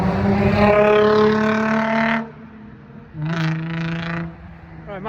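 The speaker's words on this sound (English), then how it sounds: "there's a lot of loud cars here" A loud car passes on a street in St. Joseph, Northern Missouri: a strong engine drone that fades after two seconds, then a second, slightly quieter vehicle rumbles by.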